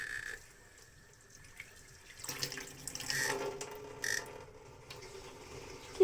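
Tap water runs into a sink while a child rinses food, steady and moderately close, growing busier partway through with splashes and clatter.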